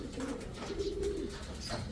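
Pigeons coo in a pigeon loft, soft low throaty calls repeating close by over a faint background rustle.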